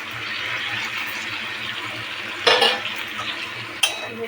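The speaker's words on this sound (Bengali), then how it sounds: "এইবার আমি ফুলকপি আর আলুগুলোকে ছেড়ে দিচ্ছি।" Cauliflower and potatoes go into a pan of Bengali rohu fish curry with tomato, making a brief splashy clatter and a sharp metallic clink over a soft, steady kitchen background.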